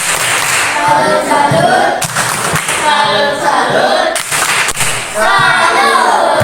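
A classroom of primary school pupils claps loudly and steadily in rhythm for a salute clap, with voices chanting along throughout.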